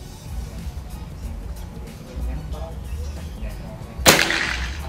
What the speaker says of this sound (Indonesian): Ini sekarang tembakan yang terakhir ya Sobat Bridlers.